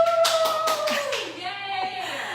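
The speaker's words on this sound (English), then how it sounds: "now is when you're supposed to clap and cheer" A few quick, sharp hand claps ring out in a home kitchen, brief and close, alongside a sustained tone and a speaking voice.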